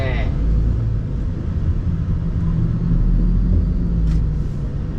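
A MAN TGS tractor truck rumbles steadily while driving, its deep engine drone filling the cab at constant loudness, with a brief voice at the start and a faint short chirp near the end.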